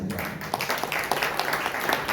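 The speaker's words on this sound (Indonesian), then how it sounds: "Yang setuju tepuk tangan." A church congregation at a Sunday worship service claps hands in a soft, scattered patter heard from a distance, loosely rhythmic and fairly faint.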